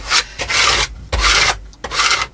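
Scraper rubbing back and forth over a stencil in junk journal crafting: three loud, rasping strokes close up, each about half a second long, separated by brief pauses.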